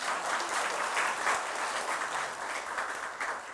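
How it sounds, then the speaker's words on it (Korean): Steady, dense applause from a lecture audience, many hands clapping continuously at moderate volume with no voices standing out. "박수 주셔야죠."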